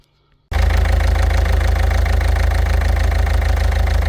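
A Peugeot 207 1.6 HDI 110 hp diesel engine idles after a repair on engine mounts, starting abruptly and then running loud, close and steady with an even knocking rhythm, with no talk.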